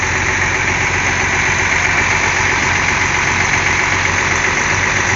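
Engine of a PT Pelangi bus idling, a steady loud low rumble with constant mechanical hum and no variation, close to the motor with no talking.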